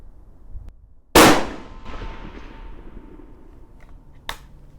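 A single sharp rifle shot cracks loudly while brass cases are fire formed, followed by a decaying echo and a fainter second report a few seconds later.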